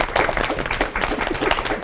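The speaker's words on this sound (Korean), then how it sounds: "자, 함께 해주신 네 분 목사님 그리고 오늘 그 스튜디오를 가득 활기 있게 메꿔주신 더 푸른 교회 청년분들 위해서 우리 함께 좀 박수 좀 보내드리죠" A studio audience of church youth at a Korean Christian broadcast show applauds steadily for four pastors, a dense, even wash of clapping lasting the whole moment without pause.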